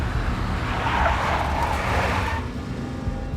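Tires screeching as a big black Mercedes skids in the Max Payne video game, a loud continuous squeal over engine rumble that fades after a few seconds.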